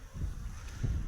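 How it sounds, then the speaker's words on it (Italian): Wind at an outdoor beehive buffets the microphone in low, rumbling gusts, close and fairly loud, swelling twice over a brief moment with no voices. "oggi c'è il vento che le disturba"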